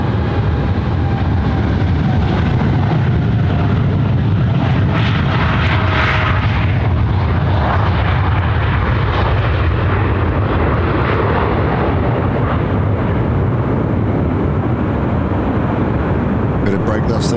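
A China Southern airliner lands at Sydney Airport, its engines giving a loud, sustained roar and rumble that fills the whole stretch, with no pause.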